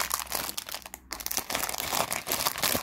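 Crinkly plastic packaging of a Pokémon booster capsule ball being handled and opened up close, a steady run of rustling and crackling with a brief pause in the middle.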